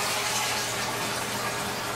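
Water rushes out of a toilet tank after a flush during an old flapper replacement, a steady, dense hiss and gurgle that fills the whole stretch with no voices.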